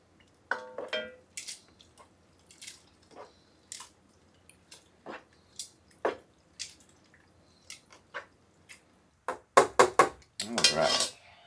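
Chicken spaghetti being tossed and mixed in a dish, giving a string of soft, wet clinks and squishy scrapes of utensils against the dish, fairly close, picking up into a brisker clatter near the end.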